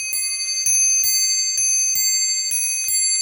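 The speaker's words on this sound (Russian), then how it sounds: "Это все голоса часов." Several clocks in a home chime and ring in turn, bright bell strikes repeating about every half second to second with lingering metallic overtones and soft lower chimes between, close and clear with no talking.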